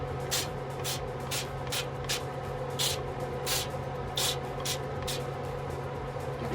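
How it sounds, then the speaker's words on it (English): A series of short hissing sprays of cooking oil onto an air fryer pan, about a dozen quick bursts at an uneven rhythm, close by over a steady low hum. "I spray my air fry pan so it doesn't stick"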